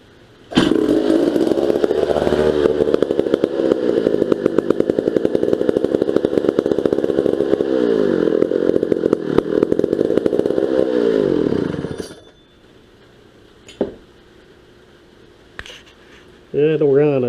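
A vintage McCulloch 300 87cc chainsaw engine runs loud and steady for about twelve seconds, holding a rough buzzing idle with some revving, then cuts out, leaving brief knocks and a short burst of talk at the end.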